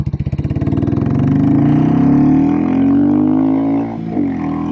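A Royal Enfield Classic 350 motorcycle fitted with a performance cam, FuelX, aftermarket pipe and filter thumps loudly, then accelerates hard, its engine note climbing steadily and smoothly before easing off near the end.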